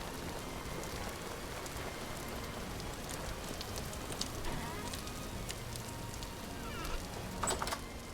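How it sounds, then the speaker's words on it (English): Rain falling steadily, a constant patter and hiss on surfaces with scattered sharper drops and small knocks, moderately loud and continuous. "The rain is a little too loud for me."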